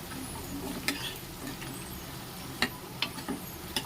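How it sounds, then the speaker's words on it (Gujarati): Spiced potatoes for Kathiyawadi bhungla bateta stirred in a pan with chili and turmeric, a low continuous sizzle broken by light spoon scrapes and a few sharp taps against the pan. "બધું આપણે સારી રીતે મિક્સ કરી લેશું."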